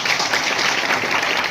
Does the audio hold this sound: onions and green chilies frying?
no